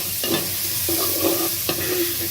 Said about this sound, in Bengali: এরপরে আমি এটাকে আবার নাড়া দিব।